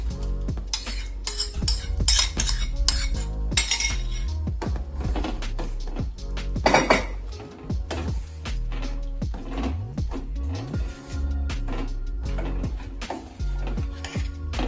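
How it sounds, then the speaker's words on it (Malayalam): Curry of jackfruit seeds and drumsticks with coconut milk powder is stirred in a pot, giving continuous clinks and scrapes of a spoon against metal for the whole stretch, close and fairly busy, with no voices. "നന്നായിട്ടൊന്ന് ഇളക്കി കൊടുക്കാം"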